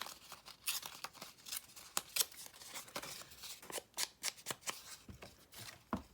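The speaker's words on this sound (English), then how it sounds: "I'm going to rip this right here" Paper torn by hand in a series of short, crisp rips and crinkles during a papercraft design project, close and fairly quiet, with no talking.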